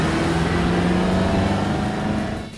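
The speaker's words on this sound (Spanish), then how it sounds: "es difícil no pisar el acelerador y dejar de escuchar este rugido" A BMW M5 engine roars under acceleration, a loud, sustained, droning growl that holds steady and then eases off at the very end.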